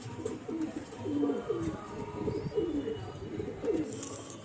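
Pigeons, including a Chennai hen with pearl eyes, coo softly nearby in a repeated series of low, warbling rolls, fairly quiet with faint background noise.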